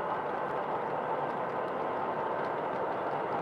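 Steady running of a model train, an even mechanical hum and rolling drone heard alone without voices, moderately distant.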